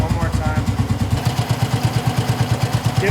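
A close motorcycle engine with a suspected faulty regulator-rectifier is revved repeatedly in a quick, even pulsing rhythm of throbbing low bursts, while talk carries over it.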